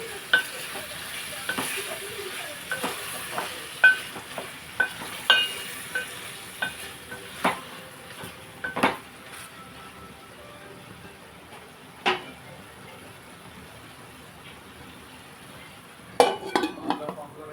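Tomato pieces are stirred in a frying pan for a curry, with a spoon scraping and knocking against the pan in scattered strokes over a faint sizzle, and a brief clatter of cookware near the end.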